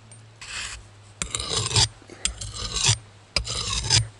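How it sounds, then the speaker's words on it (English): A dull knife drawn across a sharpening stone outdoors on a backpacking trip, four rasping scraping strokes in a steady rhythm, close and fairly loud with no talk. "we're gonna try sharpening the knife now"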